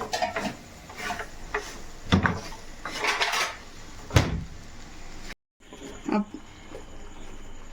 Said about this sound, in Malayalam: ഇനി നമുക്ക് നമ്മുടെ ബീഫ് ഇട്ട് കൊടുക്കാം ഇതിലേക്ക് ഇതൊന്ന് നല്ലപോലെ മിക്സ് ചെയ്യട്ടെ